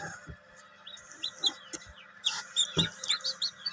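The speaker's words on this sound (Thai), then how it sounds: "ตู้ฟักไข่ครับ ผมฟักไข่ ไก่ดำภูพานสองครับ" Many small Phu Phan black chicken chicks cheep in high, rapid peeps inside an egg incubator, overlapping and continuous, with a few soft thumps and clucks close by.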